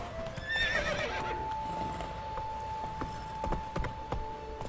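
A horse whinnies loudly near the start in The Witcher 3, followed by a few scattered hoof clops, over soft ambient game sound with no talking.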